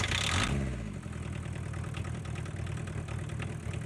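A diesel engine catches and starts after a shot of ether, with a brief burst at the start settling into a steady low, rhythmic idle chug, moderately close.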